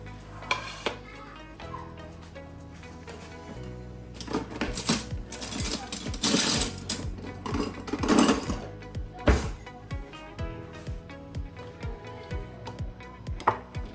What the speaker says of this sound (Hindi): मैं अभी अपनी प्लेट लगा के आपको दिखाती हूँ